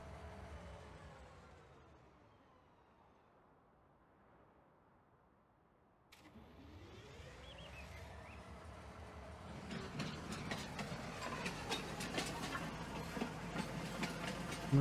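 A train in Farming Simulator 2019 rolls along, starting as a faint low rumble that swells into a louder rattling, clattering run with rhythmic track clicks.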